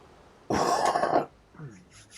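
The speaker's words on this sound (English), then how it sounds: "chesty cough, so apologies for that." One close, harsh chesty cough bursts out from a person, followed by a faint throat sound and a brief voice.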